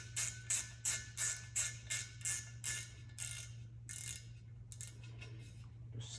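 A T10 Torx screw on a TPMS tire-valve sensor is snugged down with a run of crisp, evenly spaced ratcheting clicks that slow and fade, over a low steady hum.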